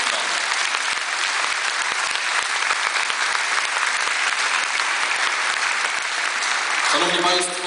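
Steady, loud audience applause for the honorary patrons at a Polish–Ukrainian festival in Będzin, a dense unbroken wash of clapping that swells slightly near the end.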